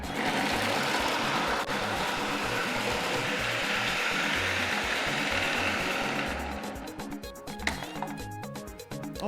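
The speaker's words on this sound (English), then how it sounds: "send your palm kernels or palm nuts into the processor" Palm kernels or palm nuts churn in a food processor for banga rice, a loud continuous whirring grind that runs steadily, then eases into lighter rattling and clicks near the end.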